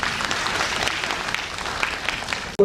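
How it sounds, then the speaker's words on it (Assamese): Sustained applause at a training event for booth-level officers, steady and dense throughout with many hands clapping, ending abruptly. "আৰু আপোনালোকৰ হৈ মই এটি হাত চাপৰি বজাইছোঁ"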